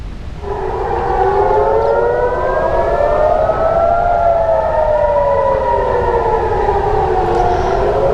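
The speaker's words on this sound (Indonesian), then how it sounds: "Yerusalem dalam keadaan siaga, sirine meraung saat Israel dan Iran saling melancarkan serangan" Air raid sirens wailing over Jerusalem during an Israel–Iran exchange of strikes, several overlapping tones rising and falling slowly, loud and sustained throughout, carrying across the city with no voices.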